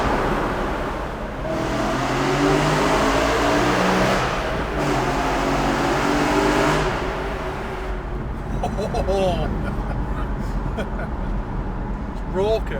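BMW E9x M3 with the S65 V8, fitted with a carbon fibre intake and primary decats, revving up in loud, raucous swells that rise and fall before dropping toward idle, with people talking over it.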